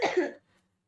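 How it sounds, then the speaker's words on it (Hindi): A single harsh cough, close and loud, lasting under half a second before silence. "खांसी हो गई भयंकर"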